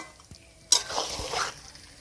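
Coriander chicken stirred in a pan, heard as one brisk scraping swish of the spoon that rises sharply and fades over about a second, set against near silence with a couple of soft knocks.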